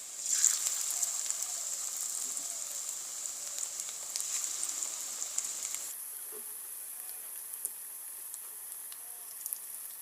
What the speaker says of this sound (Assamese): এয়া তেলখিনি গৰম হোৱাত পকোৰাকেইটা এটা এটাকৈ বহাই দিছোঁ